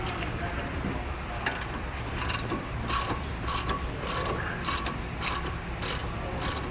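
A hand ratchet works a 3/8 drive to push out a Jeep Cherokee driver-side axle, giving repeated sharp clicking bursts in an uneven rhythm, close and clear over a low background hum.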